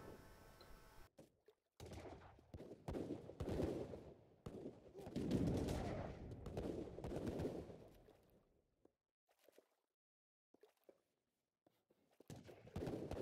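Booming, thudding cannon shots from an Age of Empires III battle, a dense burst of impacts over the first half, then quieter gaps with a few scattered blasts.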